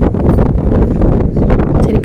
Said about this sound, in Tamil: இப்போ பாருங்கள் காற்று நல்லா அடிக்க ஸ்டார்ட் ஆகிடுச்சு.